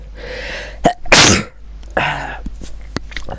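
One loud, close human sneeze bursts out suddenly mid-clip, with a quick intake before it, and quieter voices and room sounds come before and after.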